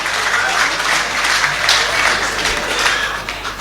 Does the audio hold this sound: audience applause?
yes